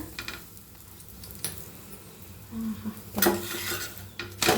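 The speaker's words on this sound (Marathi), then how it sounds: "अशा मस्त फिरवून फिरवून फुगडी करून घ्यायच्या शेकून" Chapati roasting on a hot tawa, turned again and again, with scraping and clinking of a spatula against the pan, soft sizzles and a few sharper metallic knocks, close and fairly loud.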